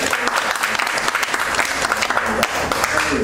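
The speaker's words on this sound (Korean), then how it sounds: "박수 치려고 하시죠." Steady applause from a church congregation, many hands clapping loudly and continuously without a break.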